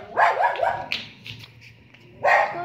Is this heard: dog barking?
yes